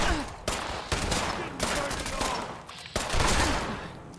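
Gunfire in Fallout 76 comes as a run of sharp, fairly quiet shots at an irregular rhythm, with a short pause in the middle before a few more.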